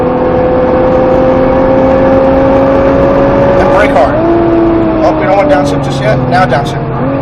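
Nissan GT-R on a race track at SpeedVegas, engine droning loud and steady then dropping pitch as it brakes and downshifts, with speech over the engine.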